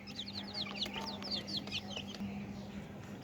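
Fifteen-day-old tiger, local and sonali chicken chicks give a quick run of thin, high peeps that thin out near the end, quiet and close over a low steady electrical hum.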